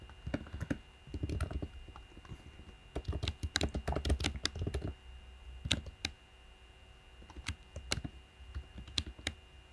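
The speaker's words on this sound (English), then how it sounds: "I'm a very slow typer tonight" Someone types on a computer keyboard in quiet bursts of soft clicking keystrokes, pausing briefly between runs, close and alone.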